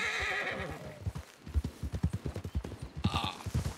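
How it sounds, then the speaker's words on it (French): Horses in a western video game neigh loudly at the start and end while hooves gallop in a fast, even rhythm throughout, close and prominent. "je sais pas qu'est-ce qu'ils ont tes chevaux, mon cœur"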